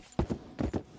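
A horse's hooves clip-clop at a walk in Red Dead Redemption 2, several distinct close thuds in an uneven rhythm with no talk over them.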